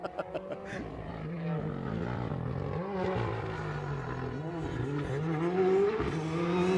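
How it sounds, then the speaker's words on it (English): A rally car at stage-side during the Rally of Nations 2022 corners on a downhill left, with loud, continuous engine noise, a sharp throttle blast and anti-lag bangs, close by and steady for several seconds. "did you get that sharp blast of throttle? Because you can hear the anti-lag"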